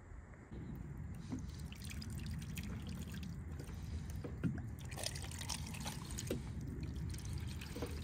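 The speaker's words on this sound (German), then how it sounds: "Ich werde da jetzt mal Wasser mit einer Gießkanne drumherum gießen und dann innen mal schauen." Water from a watering can is poured onto a vehicle roof around a newly fitted LTE antenna, giving a faint, steady trickling wash with occasional soft drips and splashes throughout.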